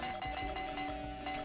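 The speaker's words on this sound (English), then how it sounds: "the D key rings the doorbell" A digital doorbell chime triggered by pressing the D key on a keyboard, a short soft electronic ding-dong tone repeating in quick pulses, faint and alone.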